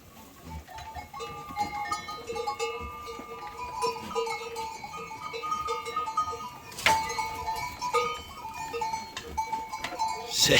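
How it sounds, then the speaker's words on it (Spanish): A herd of goats bleats on and off while grazing on pasture, close to fairly near, with a steady outdoor rustle and some bell-like tinkling underneath and a louder bleat near the middle. "Vas a ver cómo se comen el pasto. Mira cómo le pegan al pasto."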